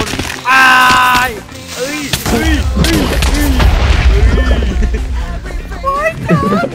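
A single loud explosion in the video game Minecraft bursts out near the start, followed by someone talking steadily over quieter game sounds.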